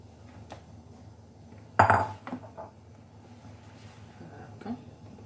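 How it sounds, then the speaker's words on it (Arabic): Cake batter for a strawberry mirror-glaze Valentine's cake is mixed in a bowl, a sharp clatter of utensil against the bowl followed by lighter scrapes and clinks, faint and close. "هانتوما كنبدا نخلط بحال هكا"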